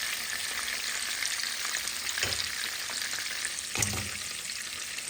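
Onions frying in a pan beside sardine fish give a steady, close hiss of oil, with a couple of soft stirring scrapes rising briefly above the sizzle.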